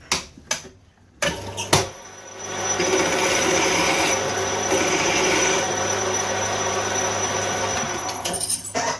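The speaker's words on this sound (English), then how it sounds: "So I'll just put a chamfer on that." A chamfer cut on a machined part for a brake pedal, where a few sharp clanks give way to a steady, loud, continuous grinding cut that runs for several seconds before tapering off.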